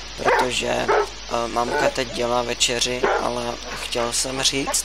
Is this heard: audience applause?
no